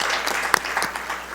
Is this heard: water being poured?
no